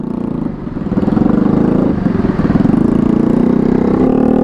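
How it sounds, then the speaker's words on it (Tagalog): A loud, throaty exhaust drones from a secondhand Yamaha Mio Sporty scooter, a close, steady low rumble that rises slightly in revs after the first half-second and holds. "Ang ingay ng tambutso."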